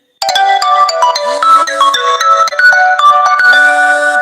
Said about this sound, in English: Sorry about that ringing, man.